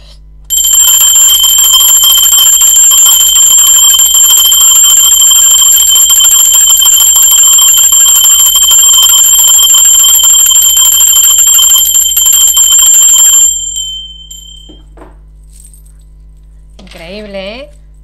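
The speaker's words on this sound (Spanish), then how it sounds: "Va campana" A bright, sustained bell tone rung during a tarot reading rings loud and steady for about thirteen seconds before cutting off, followed by faint movement and a brief voice.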